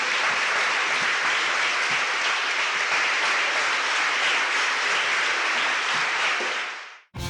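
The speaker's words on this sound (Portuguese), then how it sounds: "Então fiquemos em pé e aplaudamos mais ainda" A church congregation stands and applauds together, steady dense clapping held at full loudness for about seven seconds before cutting off abruptly, with no voices over it.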